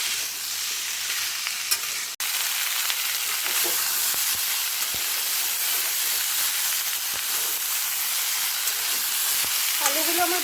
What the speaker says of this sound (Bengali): এখন আলুটাকে ভালো মতন ভেজে নেব।